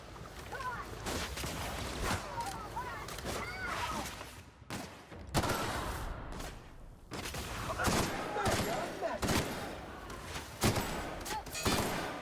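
Bursts of enemy gunfire in the video game The Outer Worlds, repeated volleys and shots crackling throughout over a dense game soundscape, with someone talking at times.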